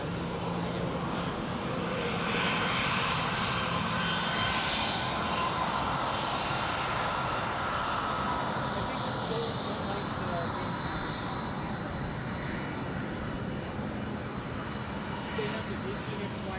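A Boeing 717 airliner takes off from runway 17 at Minneapolis–Saint Paul airport, its jet engines a steady, loud, broadband roar that holds throughout without a break.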